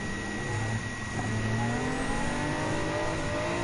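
Race car engines in Gran Turismo 7, with an Aston Martin V8 Vantage Group 4 on track: a steady, fairly faint sustained engine drone whose pitch slowly rises and shifts as the car accelerates.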